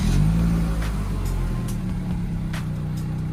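A 2014 Toyota Camry engine turns over and settles into a steady idle, a low continuous rumble with a few faint clicks, close by and without talking.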